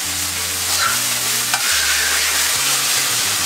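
Onions for hamburgers sizzle loudly in a hot pan, forming a close, continuous fry hiss with occasional clinks and a shake of the pan, while low music plays underneath.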